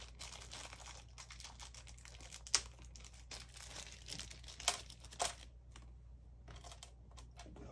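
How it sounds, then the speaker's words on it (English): Plastic packaging crinkles and rustles close up while a model airplane, an American Airlines 767-300ER in polished livery, is unboxed, with irregular crackling bursts and a few sharper snaps over a low steady hum. "Sorry for the crinkly noises."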